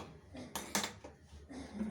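A small metal tadka pan is handled in a home kitchen, giving a few faint clinks and scrapes with brief louder knocks against the stove or utensils.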